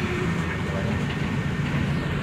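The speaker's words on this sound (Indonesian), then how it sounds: "Ini kita berada di stasiun kereta nih." Ambience at an airport train station halt: a steady, dense rumble of rail and traffic noise fills the space evenly, with no distinct single event.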